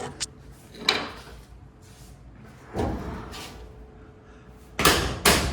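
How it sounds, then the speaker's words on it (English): A door is shut several times, giving a few separate thuds and latch clacks with short pauses between, the last pair loudest and closest; no talking is heard. "Door shut's nice though"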